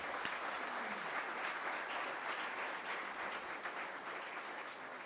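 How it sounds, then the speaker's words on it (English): A hall full of people applauds award winners at a journalism awards ceremony, a dense, even wash of clapping that holds steady throughout, heard from a distance and fairly faint. "I think you need a collective round of applause"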